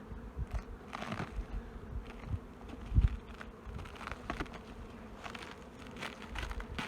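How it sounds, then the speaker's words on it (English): Honey bees buzz steadily from an opened beehive on a honey bee farm, a dense close drone with a few brief handling knocks. "we're going to look inside a beehive and see what we find."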